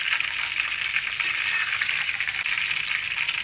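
Green chillies and curry leaves frying in hot oil, giving a soft, even crackle and sizzle that holds steady for a few seconds, with no voice heard.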